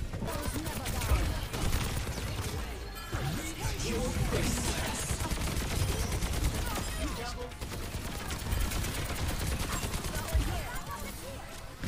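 Soldier: 76 fires his rifle in Overwatch 2, a video game: rapid, dense automatic gunfire rattles almost continuously, mixed with impacts and battle noise, while a voice talks over it.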